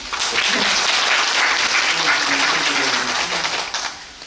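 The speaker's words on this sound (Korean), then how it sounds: "박수 한 번" A theatre audience applauds steadily at a closing-performance curtain call, dense clapping holding at an even level throughout before tapering slightly at the end.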